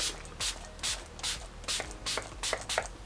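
Several quick hissing bursts of setting spray, about eight short pumps in a loose rhythm, close and fairly soft with no talking.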